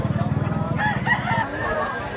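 A rooster, a gamecock with blue legs, crows once nearby over a rhythmic low thumping background, while someone talks in the clip.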